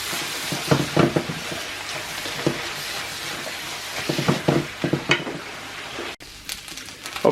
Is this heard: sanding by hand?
no